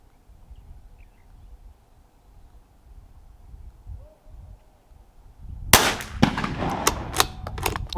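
A CZ 457 MTR rifle loaded with RWS ammunition fires outdoors on a breezy range. After several quiet seconds, a quick series of sharp, loud shots cracks out one after another.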